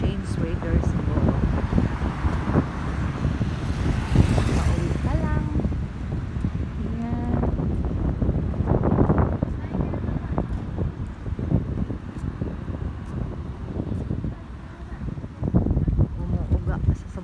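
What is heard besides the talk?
strong wind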